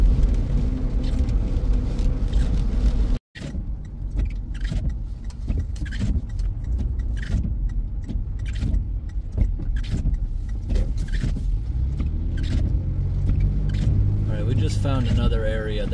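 A car drives along a flooded road during Tropical Storm Ophelia, giving a steady, close engine and tyre rumble with broadband wash that continues throughout.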